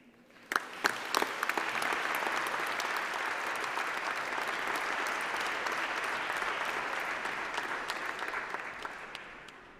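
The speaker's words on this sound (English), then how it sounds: "be sure to clap and cheer and make this a day to remember for everybody who's here" Audience applause at a university graduation ceremony, a few sharp early claps building into sustained, even clapping from a large crowd that fades slightly at the end.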